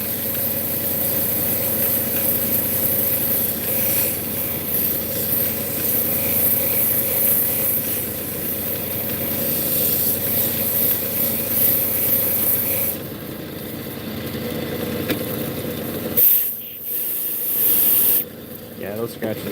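A lapidary grinding wheel works a piece of rainbow obsidian, giving a steady, loud whirring grind with a constant motor hum that runs the whole time, briefly dropping and shifting near the end.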